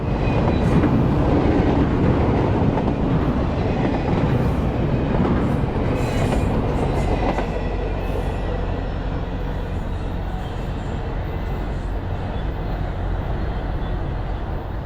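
A freight train rolls steadily past nearby, a loud continuous rumble with clattering wheels and faint squeals, gradually easing slightly toward the end.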